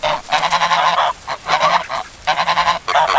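Several turkeys calling nearby, loud bursts of honking, gobbling cries in quick overlapping runs with short gaps between.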